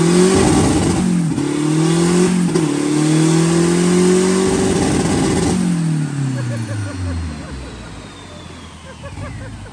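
A homemade Ka-T engine revs hard during a dyno pull, a loud sustained drone whose pitch climbs, dips and climbs again before dropping away near the end.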